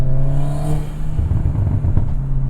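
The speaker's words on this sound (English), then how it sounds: "the burble tune on this has more depth in terms of the tone than a lot of the new burble tunes I've heard" A VW Golf R burbles with the window rolled down, a loud, steady low engine drone with a whirring undertone that dips briefly before rising again.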